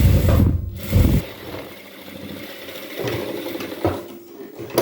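A domestic sewing machine runs close up in short bursts, stitching a folded edge on blouse fabric, with a busy mechanical whir that starts, pauses, and resumes over a few seconds.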